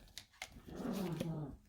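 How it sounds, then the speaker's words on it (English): A dog growls low and steady for about a second, fairly faint, after a couple of soft taps, in a home setting. "That's my dog."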